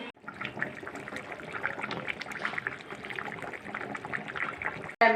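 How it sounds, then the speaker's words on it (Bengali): Water runs steadily from a kitchen tap in a continuous, moderately loud splashing stream that stops briefly near the end, then resumes. "এই কলের আওয়াজ হচ্ছে না? হ্যাঁ এই কল করছে।"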